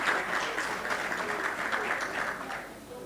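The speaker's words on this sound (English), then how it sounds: "A round of applause for Egyptians and a good leadership." Audience applause at an official high-level trade roadshow event, a steady, moderately loud burst of many hands clapping together in a hall, lasting a few seconds and fading slightly at the end.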